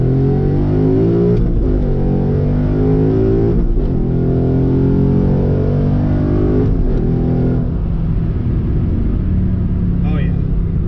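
Manual Mustang with an MT82 transmission running through its gears, engine revving steadily with pitch rising and dropping at each shift, loud and close throughout, with a brief voice near the end.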